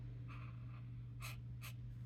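A tri-blend marker in ice blue scratching across paper in a few short strokes, soft and close over a low steady hum, with no talk.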